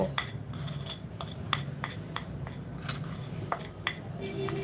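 Eggs beaten in a bowl with a metal utensil, salted beforehand, giving a steady run of light clinks and taps against the bowl at an uneven rhythm, close and fairly quiet over a low background hum.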